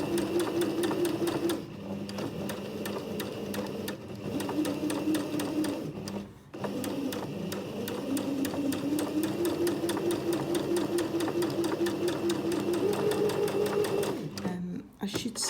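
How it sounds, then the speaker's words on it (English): A sewing machine runs steadily while stitching a sleeve seam along the fabric edge at about 2.5 mm stitch length, its whirring hum continuing with brief pauses, and a voice talks over it throughout. "I'm following the edge of the fabric to get a nice, smooth and even stitch."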